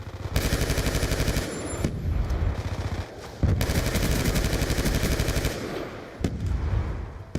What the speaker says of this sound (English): I feel like this is one of the more underrated firing sounds in Black Ops 2